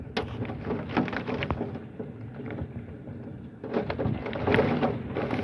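Heavy rain from a severe thunderstorm with marble-sized hail pours in a dense, steady roar that swells and eases in waves, without a distinct thunderclap standing out.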